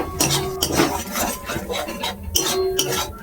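A utensil stirs red amaranth leaves in a metal pan, scraping and rubbing steadily with small clinks against the pan.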